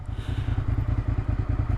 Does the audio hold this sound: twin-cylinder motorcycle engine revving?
yes